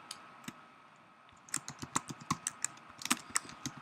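Typing on a computer keyboard, starting with a few isolated clicks and then breaking into a quick, uneven run of crisp key taps heard close and alone.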